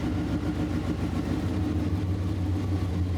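Pontiac Firebird barn-find V8 idling with a deep, even, throbbing rumble, close and continuous with no voices over it.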